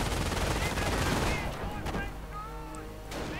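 Gunfire from sapper sections in a battle in a real-time strategy war game: a dense rattle of small-arms and machine-gun bursts, then sparser separate shots, heard faintly behind the mix.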